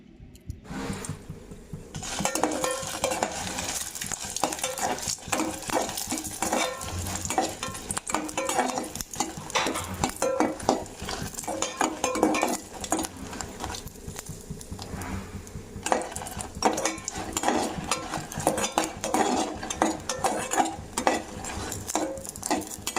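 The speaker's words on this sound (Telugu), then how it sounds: "ఒక కళాయి పెట్టుకున్న తర్వాత అందులో కొంచెం ఆయిల్ పోసి ఇలా మిరపకాయలను అయితే కొంచెం దొరగా ఫ్రై చేసుకోవాలన్నమాట" Red chillies fry in a little oil in a kadai, a steady crackling sizzle broken by frequent scraping stirs of a spatula against the pan, close and busy throughout.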